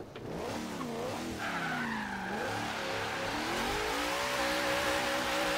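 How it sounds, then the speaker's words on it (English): Tires spin and squeal continuously as a drifting car slides in Forza Horizon 3, a Hoonigan Napalm Nova drift build, with the engine revving loudly underneath and pitch sweeping up and down across the slide. "Just all the tire spin"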